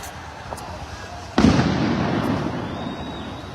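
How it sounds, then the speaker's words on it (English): Flashbang grenades go off during a Gen-Z street protest in Nairobi, one sharp close blast followed by a rolling roar and echo, with a few fainter distant pops before and after amid crowd noise. "You can see Flashbangs everywhere."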